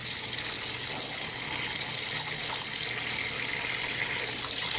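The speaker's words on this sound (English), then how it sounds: "Dilute it with some hot water." Hot water gushing steadily from a tap to dilute bleach, a loud continuous hiss with no pauses or talk.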